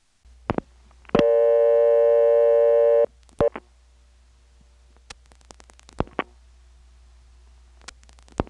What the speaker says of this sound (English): The busy tone here has subtle blips of ringtone at the beginning and end of each busy signal tone burst.